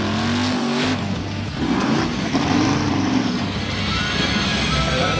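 Twin-turbo LS V8 in a pro-mod Chevette at an LS event, loud and close, revving with a rising tone then holding a rough, steady drone.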